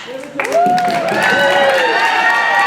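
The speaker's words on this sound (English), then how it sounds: "A big round of applause for everybody." A school play audience claps and cheers, a loud swell of applause with voices mixed in throughout.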